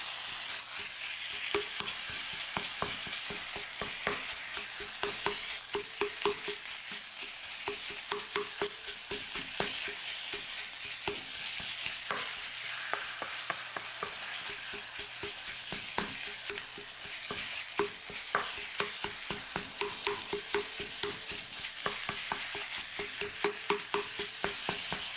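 Meatless filling seasoned with five spice sizzles steadily in a pan while a utensil stirs and breaks it up, with frequent close scraping clicks and taps over continuous frying hiss.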